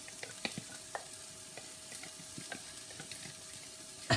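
Garlic and chilies frying with onions in a pan make a soft, continuous sizzle close by, punctuated by scattered light taps and stirring clicks and a brief louder clatter at the end.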